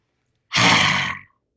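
One forceful lion's-breath yoga exhale, a loud, rasping breath pushed through the throat that lasts under a second and fades out, heard alone and close.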